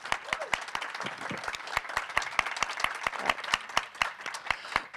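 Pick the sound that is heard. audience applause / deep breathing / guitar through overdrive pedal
audience applause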